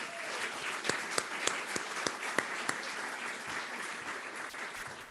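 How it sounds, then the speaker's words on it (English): An awards ceremony audience applauds a student award with a steady wash of clapping, several sharp, louder individual claps standing out near the front in an even rhythm before the applause gradually thins toward the end. "another round of applause for the student award."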